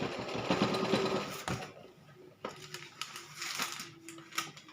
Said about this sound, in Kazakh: Енді осылай тігіп шығамыз.